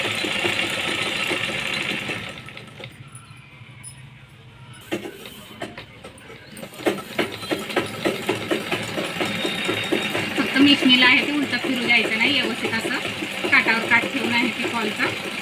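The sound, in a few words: sewing machine stitching saree pico and fall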